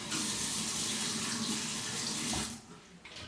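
Tap water runs steadily into a sink for an apple cider vinegar soak mixture, a close, even rush that cuts off abruptly near the end, leaving faint trickles.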